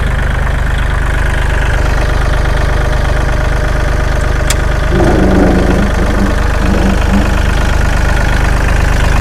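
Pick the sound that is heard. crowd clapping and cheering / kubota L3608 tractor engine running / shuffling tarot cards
kubota L3608 tractor engine running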